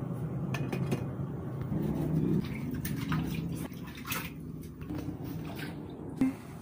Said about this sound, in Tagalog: Bukas ng tubig.